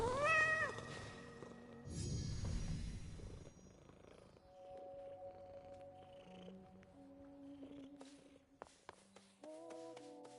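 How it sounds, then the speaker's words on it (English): In Hades 2 a cat lets out a short meow, then a rumbling purr, over quiet sustained game music with faint clicks, the sounds fading toward the end. "You're an impressive cat."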